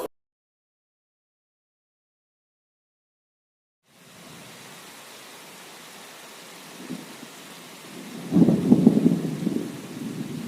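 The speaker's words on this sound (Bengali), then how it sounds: "কি ঝড় বৃষ্টি শুরু হয়ে গেল হঠাৎ করে" After a few seconds of silence, a steady hiss of heavy rain rises in a thunderstorm, and a deep rumble of thunder swells near the end.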